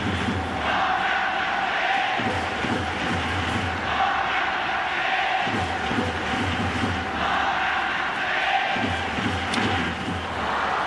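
A big crowd in the right field bleachers at a Yankees versus Yomiuri Giants baseball game in Tokyo chants in a steady rhythmic pattern, loud and continuous, for Hideki Matsui to hit a home run.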